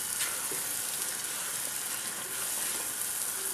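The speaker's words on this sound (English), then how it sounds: "the sizzle of that butter" Butter sizzles and crackles steadily in a hot pan, a bright hissing fry with occasional soft pops, quiet and close with no talking.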